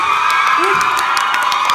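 A concert audience at a piano festival screams and cheers loudly in a dense, continuous wash of high-pitched crowd noise, close and sustained with no pause.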